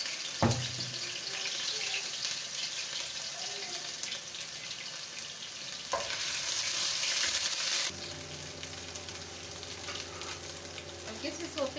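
Garlic dropped into hot oil in a pan while cooking vegetable chow mein, sizzling and frying steadily and close, with a burst of louder crackle partway through and stirring noises.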